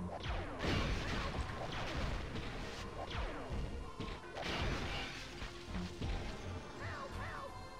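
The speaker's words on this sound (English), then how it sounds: "we make this little, like, laser noise every time that we slam this robot down." A robot slamming down in the video game Blast Corps, with heavy crashes and thuds repeating through the stretch and short laser-like zaps after the impacts, amid game effects and no talk.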